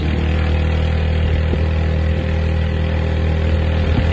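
A small motorized tricycle engine chugs loudly and steadily with a low, rough idle-like throb, close up, with no voices over it.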